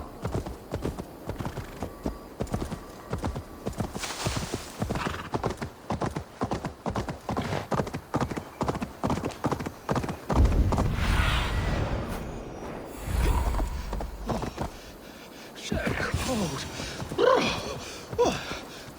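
Horse hooves in Assassin's Creed Valhalla clip-clop in a steady walking rhythm, then give way to rougher rumbling and scuffing before the hoofbeats resume, fairly close.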